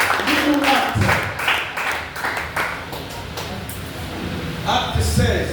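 A church congregation claps and cheers in praise of the Lord, with bursts of applause rising and falling as voices call out over it.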